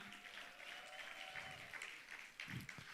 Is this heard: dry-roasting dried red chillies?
no